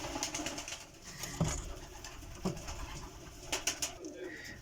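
Pigeons coo softly and repeatedly at a moderate distance, low rolling calls recurring over faint background noise, with no talking.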